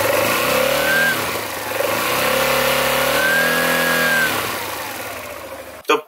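A Honda Transalp 700 motorcycle engine with a fault idles and revs unevenly nearby, with a whining tone rising and falling over the steady running, ending in a brief clatter.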